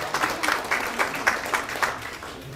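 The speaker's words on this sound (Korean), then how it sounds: "네, 박수 부탁드리겠습니다." Applause from an audience at a Saenuri Party Daejeon chapter policy talk show after an advisory appointment, a short burst of many hands clapping, fairly loud and gradually thinning out, with no one speaking.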